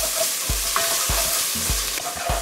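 Cumin and oregano sizzle in hot oil in a pot for chile verde, with a spoon scraping through in regular strokes about every half second, close and steady.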